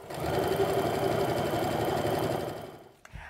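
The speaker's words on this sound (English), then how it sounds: "then you can turn everything and then just keep on stitching" Sewing machine stitching an apron hem, a rapid, even mechanical whir and clatter running close and steady for a few seconds, then slowing and stopping, followed by a small clunk.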